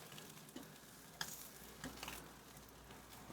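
A steak cooked cave-man style sizzles and crackles steadily in the heat after being turned, a close, even hiss of frying broken by a few soft pops and small shifts, with no voices.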